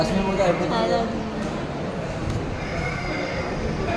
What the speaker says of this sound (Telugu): అక్కడ గుర్రం వచ్చింది, గుర్రం ఎక్కుతారా?